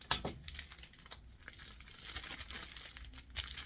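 Cellophane crinkles and crackles close up in a quick series of sharp rustles as it is wrapped around a candy apple, with no talking.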